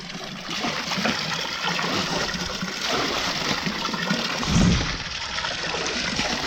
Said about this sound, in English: What we can do is just wash it real quick.